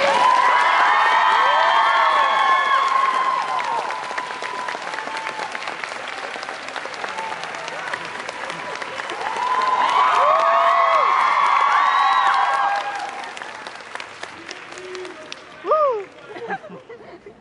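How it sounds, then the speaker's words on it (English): Convention panel audience at Animazment 2015 applauds and cheers for guest of honor Crispin Freeman, a dense crowd roar with whoops and shouts that swells again midway before fading into scattered claps. "let's give a big, huge round of applause to our guest of honor, Mr. Crispin Freeman"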